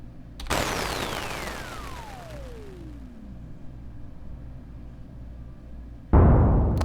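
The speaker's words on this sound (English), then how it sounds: "the longer it'll take for the explosion to trigger close to the sweep" Firework explosion synthesized by a Reaktor 6 firework generator: a loud burst opens a long descending whistle-like sweep, followed by a rumbling tail and a second sharp blast at the end, with no voices.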